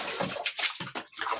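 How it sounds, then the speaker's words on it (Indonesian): Water is poured over a cat during a bath, giving close, intermittent bursts of splashing and sloshing in a tub, several separate pours in quick succession. "Lagi nih, kita siram aja."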